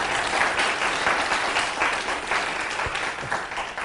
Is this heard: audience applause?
yes